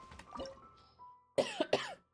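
Faint background sounds give way to a burst of three harsh coughs in quick succession, close to the listener, from a person with a lingering cold.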